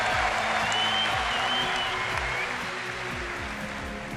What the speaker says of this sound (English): getting the applause he deserves